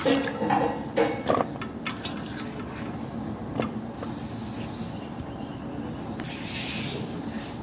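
Water splashes and trickles into a cooking pot holding raw jackfruit and potatoes, with a few clattering knocks of utensils at the start, then a steady soft wet rustle close by.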